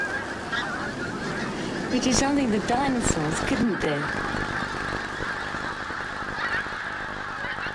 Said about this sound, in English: there's always some geese with their heads up, keeping an eye open. If they spot a danger, then the lookouts honk.